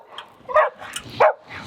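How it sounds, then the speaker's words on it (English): Dogs bark in short, sharp bursts, three or four yips and barks in quick uneven succession at close range, with no talk over them. "Silly dogs."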